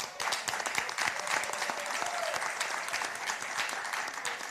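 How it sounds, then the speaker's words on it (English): An audience at a talk on intellectual property and the music industry gives a round of applause, a dense patter of many hands clapping, soft and distant but steady throughout. "you all gave him a round of applause"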